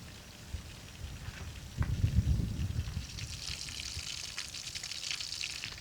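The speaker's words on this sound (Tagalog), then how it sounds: "naririnig nyo yung pagaspas ng hangin" Wind sweeps across a campsite on a family motorcycle camping trip, a steady rushing hiss that swells into a stronger gust around the two-second mark and then settles back to a constant breathy roar.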